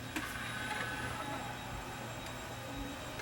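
A Pioneer CLD-91 LaserDisc player's tray slides open slowly, giving a steady low mechanical motor whir and faint grinding with a couple of small clicks, heard close and alone without speech.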